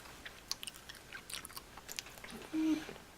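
Aerated, foamy Canadian chocolate bitten and chewed up close, giving soft, irregular crunchy clicks and mouth sounds at low volume.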